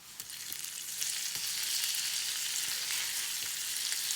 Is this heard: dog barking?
no